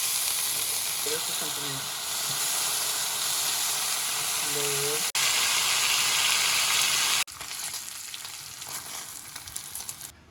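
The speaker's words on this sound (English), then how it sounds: "Right now I need to drop the bacon." Bacon frying on a griddle alongside burgers gives a dense, steady sizzle and hiss that shifts abruptly in level a couple of times. A voice speaks briefly over it.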